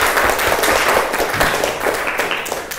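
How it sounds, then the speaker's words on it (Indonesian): A roomful of schoolchildren in an Indonesian classroom applauds together, a steady, close burst of clapping that tapers slightly toward the end. "Tepuk tangan untuk kita semua."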